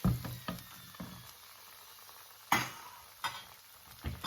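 A pancake flipped in a frying pan on a home stove, a faint continuous sizzle broken by a few sharp scraping and clattering knocks of the spatula against the pan, close and quiet, with no talking.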